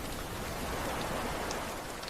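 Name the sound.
rain falling on rocks by the ocean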